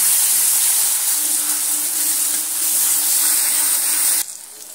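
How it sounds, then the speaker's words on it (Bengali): Ginger garlic paste frying with mustard paste in a pan gives a loud, even hiss of sizzling that runs steadily, then drops sharply near the end, with no voices. "আদা রসুনটা দিয়ে আবারও সুন্দর করে এই সর্ষে বাটার সঙ্গে সুন্দর করে কষিয়ে নিতে হবে।"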